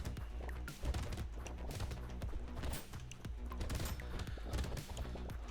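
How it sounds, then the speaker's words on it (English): Weapons fire bullets in rapid, overlapping bursts during Brotato gameplay, a busy stream of sharp game shots layered over dense music and effects throughout, with no voice. "I think the bullets shooting out seem to be doing decent damage"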